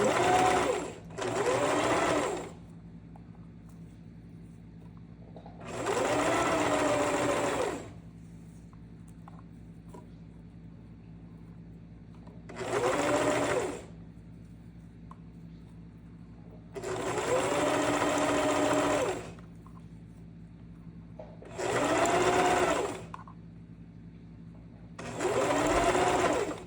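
Home sewing machine stitching swimsuit cover-up fabric in repeated bursts of steady, fast needle whir, each a few seconds long with short pauses between, close and fairly loud with no talking.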